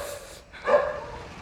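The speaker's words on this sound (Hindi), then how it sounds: "तो वो भौंक रहे हैं मेरे ऊपर।" Dogs bark at a person holding a doormat, one short loud bark burst rising over a low background, close by, with no talk.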